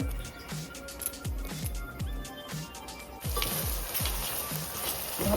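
Onions sauté in a pan for an eggplant biryani, giving a steady soft sizzle with rhythmic stirring scrapes that grows brighter and louder partway through.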